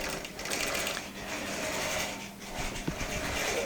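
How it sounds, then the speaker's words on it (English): A computerized quilting machine restarts and stitches a pattern, giving a soft, continuous mechanical whir with faint rapid ticking, fairly quiet and close, with no talking. "it's going to start quilting at the point where it stops"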